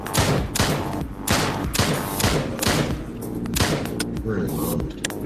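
Repeated gunfire in the shooter video game Drop Dead: Dual Strike, dense bursts of shots and thuds mixed with game music and effects, loud and continuous throughout.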